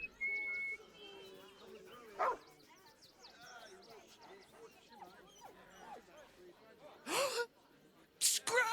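Scratch, a dog in Baldur's Gate 3, barks and whimpers close by in short yips between characters' spoken lines, with a couple of loud, sharp barks near the end.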